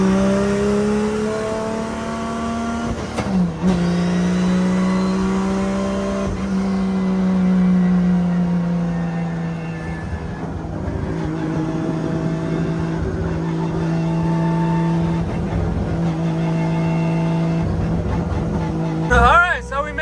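A car fitted with a 1.5JZ engine cruises on the road, its steady engine drone holding fairly constant with gentle rises and dips in pitch, loud and close throughout, ending in a brief burst of louder noise.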